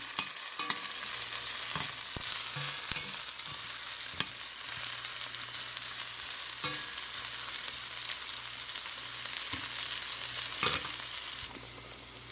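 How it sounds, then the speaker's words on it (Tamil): Tiny prawns frying in oil in a pan, a dense, steady sizzle with occasional scrapes and knocks of a spoon stirring, close and fairly loud, with no speech. "இன்னும் முறு முறு பொரியல் மாதிரி பொறிச்செடுப்போம்"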